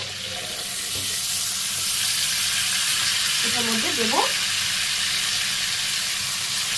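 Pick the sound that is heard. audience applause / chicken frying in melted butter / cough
chicken frying in melted butter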